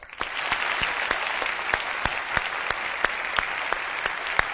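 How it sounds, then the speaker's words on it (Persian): Studio audience of the Iranian TV comedy show Khandevaneh claps in steady, sustained applause, with a crisp, even patter and a few sharper claps standing out near the front. "یه بار دیگه خودتون رو تشویق کنید."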